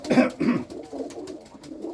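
Pigeons in a loft give a short run of soft, throaty coos, close and fairly loud, two stronger pulses followed by quieter murmuring.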